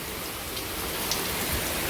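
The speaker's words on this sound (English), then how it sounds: "All these are rainwater, and it's still coming down," Steady rain pours down into a row of collecting buckets, a dense, even hiss of falling water with no voices, constant and close throughout.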